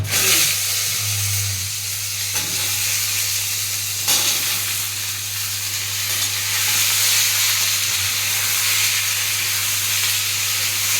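Mango pieces frying in hot oil with five-spice and chili: a steady, loud sizzle and hiss, with occasional stirring scrapes and a low hum underneath.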